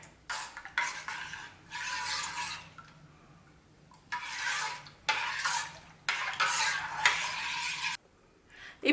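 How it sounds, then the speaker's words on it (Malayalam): Coconut milk powder being stirred into coconut milk for semiya payasam: several bursts of brisk stirring and swishing against the vessel, separated by short pauses, close and moderately loud. "നമുക്കിത് നല്ലപോലെ ഒന്ന് മിക്സ് ചെയ്ത് കൊടുക്കാം"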